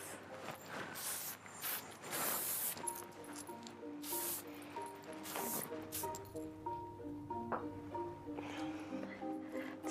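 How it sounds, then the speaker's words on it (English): Close, airy bursts of a shine spray nozzle hissing in short pumps onto hair, mixed with light clicks and handling noise over soft background music. "So I add a heavy helping of shine spray,"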